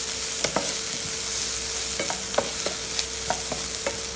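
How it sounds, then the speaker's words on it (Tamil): Ginger, garlic and green chillies sizzle steadily in hot oil in a pan while a spoon scrapes and stirs in a series of sharp clicks and taps, close and clear with no talking. "அடுத்தது ரெண்டு சின்ன பச்சை மிளகாய், அதையும் ரோல் சேர்த்து வதக்கிடுங்க."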